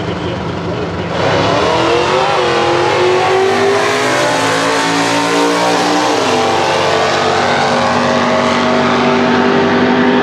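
A 1969 Camaro SS 396 drag races in Stock Eliminator at the NHRA Winternationals, its loud engine roaring steadily near and close, with the revving pitch climbing through gear changes after a brief quieter start.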